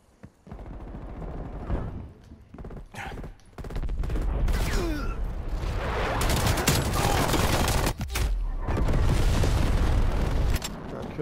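Turret gunfire in Call of Duty Black Ops Cold War, dense sustained automatic bursts and booming impacts that roll almost continuously with brief gaps, loud and close.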